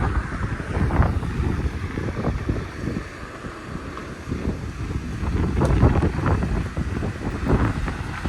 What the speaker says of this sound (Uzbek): Havo ham shamol bo'layapti